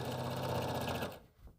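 A sewing machine stitches quilt rows together for a pillow block in a fast, continuous mechanical whir that runs steadily before stopping abruptly near the end.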